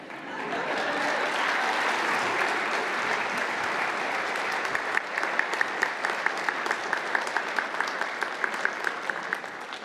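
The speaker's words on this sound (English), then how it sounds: "Another round of applause" Sustained applause from a large audience at a police swearing-in ceremony, steady clapping that thins into more distinct individual claps toward the end, with faint crowd murmur underneath.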